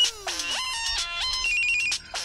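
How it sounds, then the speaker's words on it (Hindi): A mobile phone ringtone plays a bright electronic melody with sliding tones, steady and fairly loud, with no talking over it. "अरे ये किसका फोन बज रही आएगा?"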